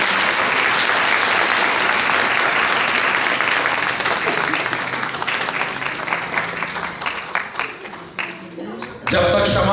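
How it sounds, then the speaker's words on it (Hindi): A church congregation applauding during an Advent candle lighting on the fourth Sunday of Advent: loud, sustained, dense clapping fills the room, then fades near the end as a voice begins to speak over it. "जोरदार तालियां जी खुदा के जलाल के लिए"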